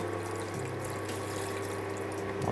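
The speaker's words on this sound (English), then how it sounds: "we then add our water" Water is poured into melted Nuttelex dairy-free spread in a cooking pot, a steady close-up rush of liquid with a low hum running throughout.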